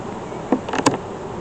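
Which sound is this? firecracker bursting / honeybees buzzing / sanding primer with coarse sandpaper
honeybees buzzing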